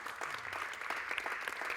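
A seated audience at a literary conversation event applauding after an author's reading: soft, steady clapping from a modest crowd, faint and evenly sustained.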